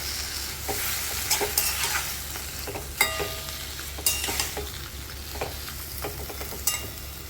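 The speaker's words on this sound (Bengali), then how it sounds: "ভালো করে নেড়ে চেড়ে দিতে হবে, যাতে এই ফোড়নের যে মশলাগুলো যেটা, সেগুলো এই সমস্ত টমেটোর মধ্যে মিশে যায়।" Tomatoes with tempering spices are stirred in a pan for a Bengali sweet tomato chutney, with repeated scraping and clinking of a spoon over a light, constant sizzle and no talking.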